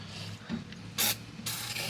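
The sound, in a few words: spraying PB Blaster penetrating oil into motorcycle cylinders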